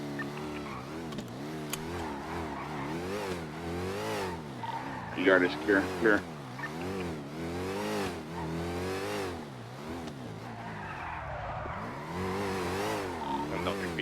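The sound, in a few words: car driving up and revving in Nopixel GTA video game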